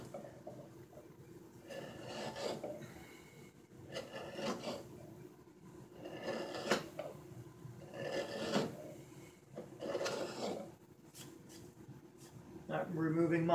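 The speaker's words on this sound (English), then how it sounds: "So we're just kind of removing little shavings." Knife carving thin shavings from dry mulberry wood for a kuksa cup, heard as a series of short scraping strokes every second or two at close range, with a voice talking now and then between them.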